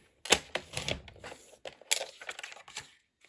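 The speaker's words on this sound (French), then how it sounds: "Ah, je reprends mon coupe-papier." A paper trimmer slices through cardstock during card making, giving a series of crisp scraping, clicking cuts in two bursts, close and fairly quiet, with no talking.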